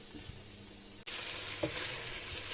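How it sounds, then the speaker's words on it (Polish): Steady sizzling of goulash soup ingredients, meat, onion and garlic, frying in a pot, a constant close hiss with a faint stir or clink partway through. "Podsmażamy jeszcze trochę."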